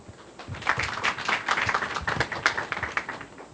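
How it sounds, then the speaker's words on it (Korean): Forum audience at an ESG management event applauds as a speaker is welcomed to the stage, a smallish group of scattered claps building in the first second and then tapering off, fairly close. "박수와 함께 무대로 모시겠습니다"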